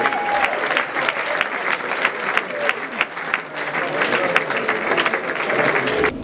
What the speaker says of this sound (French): Est-ce qu'on peut encore les applaudir pour moi